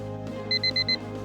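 A timer alarm rings in four quick, evenly spaced electronic beeps over a steady background hum, indoors in a home setting.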